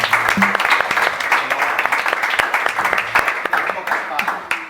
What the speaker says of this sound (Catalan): Aplaudiment per tots ells